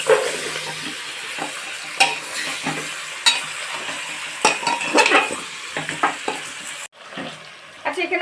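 Vegetables stirred and frying in butter in a pan for a chicken soup, a steady close sizzle broken by repeated scraping clinks of a utensil against the pan, with no voices.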